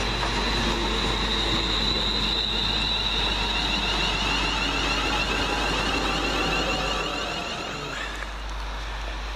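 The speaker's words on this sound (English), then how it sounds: "Here comes my train out of here." A Greater Anglia train rumbles through Kelvedon station close by, a loud continuous roar with squealing wheels and a low hum, easing slightly near the end.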